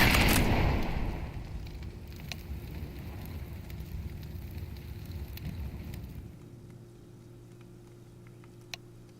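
An incendiary grenade burns in CS2, a loud whooshing burst of flame at first that settles into a steady crackling roar, then drops away abruptly after about six seconds, leaving quiet game ambience and a single click.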